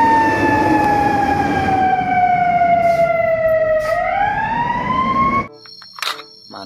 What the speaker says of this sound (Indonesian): Wadidaw, ada truk pemadam kebakaran.